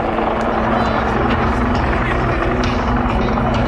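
A Portuguese Navy Westland Lynx Mk95 helicopter hovers at an air show, its loud, steady rotor and turbine roar filling the whole stretch without a break, with crowd or commentary faintly mixed under it.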